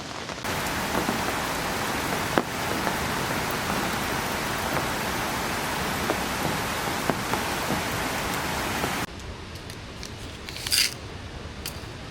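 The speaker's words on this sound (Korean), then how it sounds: "진짜 오랜만에 이렇게 밖에서 듣는 빗소리 너무 좋네요" Steady heavy rain patters on a forest campsite at night, a dense even hiss with a few sharper drip taps, then drops abruptly to a quieter, lighter patter near the end.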